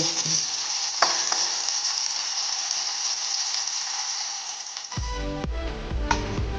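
Hot oil sizzles steadily as dried red chillies, tempering spices and curry leaves fry for an instant catering-style mango pickle, with a sharp burst of louder crackling near the end as more goes into the pan.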